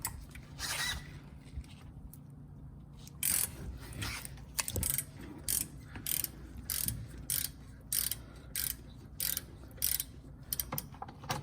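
A ratchet loosens nuts on a Mercedes GLK350 rear brake, giving a close, regular series of short clicking pawl bursts that repeat in a steady back-and-forth rhythm, alone with no talk.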